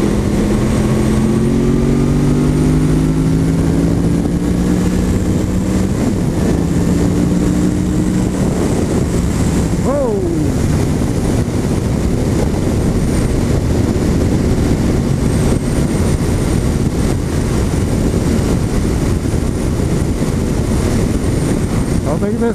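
A Yamaha MT-10 motorcycle ridden at speed gives a steady, close engine drone whose pitch climbs and dips with the gear shifts, buried in a constant loud rush of wind.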